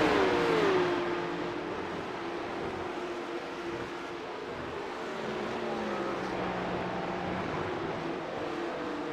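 Porsche Cup Challenge race cars lapping Watkins Glen, a single engine note rising loud in the first second then settling into a steady mid-distance drone that holds without pause, with no talking.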